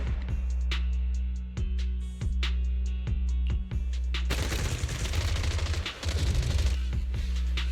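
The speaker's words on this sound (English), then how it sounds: "Gunfire?" Gunfire in a video game, suppressive marching fire: sharp spaced shots crack over a low steady drone, then a dense sustained burst of rapid automatic fire takes over the second half, loud and close.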